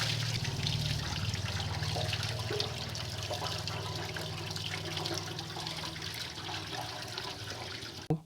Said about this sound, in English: Pour the water with baking soda inside the tank.